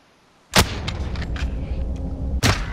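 Two sharp, loud gunshots crack out in a shooter video game, one near the start and another about two seconds later, with a steady game ambience and faint thuds between them.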